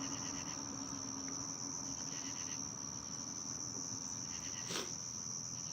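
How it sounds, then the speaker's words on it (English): Crickets chirp outdoors late at night, a faint, steady high trill that holds evenly throughout, with one brief soft rustle near the end. "Is that the cricket mating sound though?"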